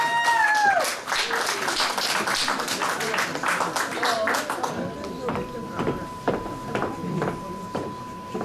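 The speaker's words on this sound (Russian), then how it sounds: "Аплодисменты." An audience at a Turkic peoples' concert in Moscow claps steadily, the applause thinning toward the end into scattered claps, with a brief vocal tone early on and a faint steady tone later.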